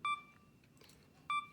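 Sony A7 camera self-timer beeping: two short, clear electronic beeps about 1.2 seconds apart over quiet room tone, close by, with no speech.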